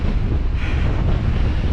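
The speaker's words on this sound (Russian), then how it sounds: "Конечно, волны сегодня безумно огромные." Huge storm waves crash on the Crimean sea shore in a strong gale, a loud continuous roar of surf and wind buffeting the microphone, close and unbroken with no voices.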